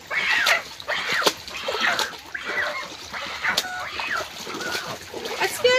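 Freshly caught fish, including crab, prawns and a large tilapia, being rinsed and splashed in water by a Sundarbans river in the rain; wet splashes recur under a crowd of loudly mewing cats and someone talking nearby.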